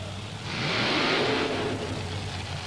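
Monster truck engine at a 1990 mud and monster truck event in Orlando, Florida, revving hard for a quick throttle burnout at the starting line: a rough, swelling roar that peaks midway and settles into a steady rumble.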